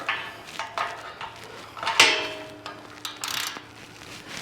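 A wrench clicks and ratchets in short metallic bursts while tightening a bolt on a Siegmund welding fixture table, with light clanks and taps between the strokes.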